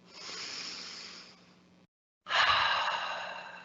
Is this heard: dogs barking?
no